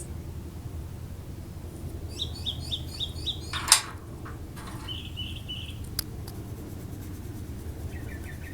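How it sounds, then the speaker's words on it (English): Small birds chirp outdoors in short repeated bursts of bright tweets, some near and some farther off, over a quiet background hum, with one sharp louder knock midway. "can hear our birds have joined us."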